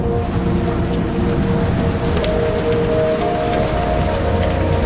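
Heavy rain pours steadily on the Serengeti plains in May, a dense, close, unbroken hiss of drops on the ground that lasts throughout with no voices.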